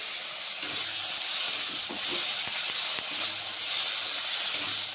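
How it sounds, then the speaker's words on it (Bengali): Ground chilli paste with ginger, onion and garlic paste sizzles in a hot pan for a banana flower curry, a bright, continuous hiss close by with faint low knocks underneath. "এখানে দেব লঙ্কা বাটা। এখানে আছে আদা, পেঁয়াজ, রসুন সবটা বেটে নিয়েছি।"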